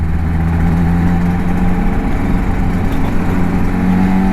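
A Suzuki RG500 two-stroke motorcycle fitted with Nikon exhausts runs on the road, a loud steady engine drone with a strong low hum, heard close and alone.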